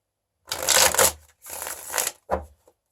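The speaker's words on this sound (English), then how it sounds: "A few shuffles here." A deck of tarot cards is riffle-shuffled three times in quick succession, crisp close-up fluttering bursts, the last one shorter, with no talking.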